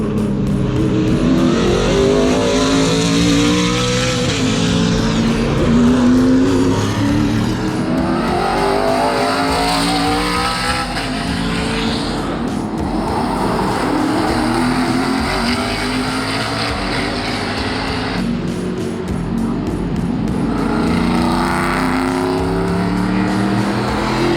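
Loud NASCAR race car engines roar continuously as cars pass in waves on track at VIR, pitch sweeping up and down with each pass, dense and close with no break.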